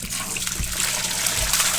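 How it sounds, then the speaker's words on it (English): Fresh well water gushes in through an opened valve of an aquaponics setup, a steady close rushing flow with low thumps underneath and no talking. "I just turn a valve and I get brand new fresh water inlet from the well."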